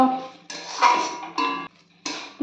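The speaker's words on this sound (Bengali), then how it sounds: "এবার গ্যাসের ফ্লেম মিডিয়ামে রেখে আমি কন্টিনিউ এটা নাড়তে থাকবো যতক্ষণ পর্যন্ত গ্রেভিটা ঘন না হয়ে আসছে" Jujube (kul) pickle gravy stirred in a pan over a medium gas flame, a spoon scraping and clinking against metal in four short bursts separated by quiet pauses, close and fairly soft.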